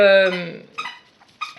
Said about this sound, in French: ça c'est mon chien.